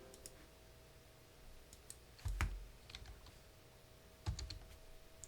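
A computer keyboard being typed on in a quiet room, with sparse, faint key clicks and two louder thumping key presses over a low electrical hum.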